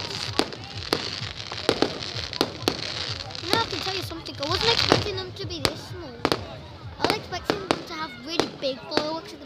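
Repeated sharp fireworks bangs burst at irregular intervals, some close and loud, over a crowd murmuring and cheering in the background.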